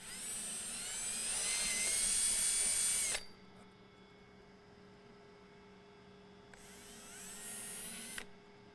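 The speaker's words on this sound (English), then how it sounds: "So we're going to drill out the heat stakes now." A power drill bores out the plastic heat stakes on a factory intake of a 2020-2026 Corvette C8 Stingray 6.2L, two loud close whining bursts, the first about three seconds long, then a pause of hum and a second burst of about two seconds.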